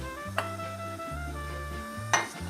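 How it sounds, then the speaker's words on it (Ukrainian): Pork and beef dumplings are stirred in a pot of water, with two brief clinks of the spoon against the pot over a steady, humming tonal background. "Час від часу помішуємо акуратненько. Не даємо пристати їм до дна."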